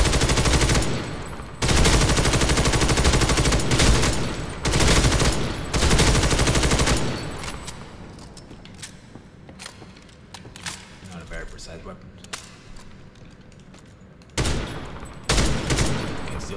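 Gunfire from a weapon in the shooter game First Assault: loud dense bursts of rapid shots in the opening seconds, a quieter mixed stretch in the middle, then two more short sharp bursts near the end.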